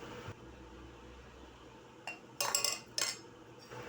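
Metal utensils dropping in a washroom, heard as a few sharp clattering clinks in quick succession over a low steady background hum, fairly faint and played back from another recording.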